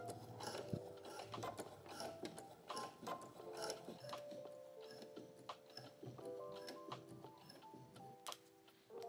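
Domestic sewing machine stitching down a bustier cup on a corset dress, a quiet, fast mechanical ticking with uneven bursts and short pauses, faint and close.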